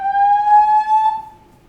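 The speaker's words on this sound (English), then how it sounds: "that's the 7:00 alarm" A loud electronic alarm tone holds a steady pitch with bright harmonics for over a second, then fades out.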